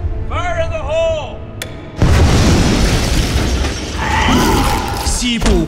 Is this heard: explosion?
yes